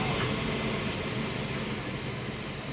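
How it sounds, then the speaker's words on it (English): A Navy DC-9 jet's engines roar with a steady, loud, broadband rumble as the aircraft departs March Air Force Base, holding a constant level throughout. "an entourage from Southern California departs March Air Force Base on a Navy DC-9 jet"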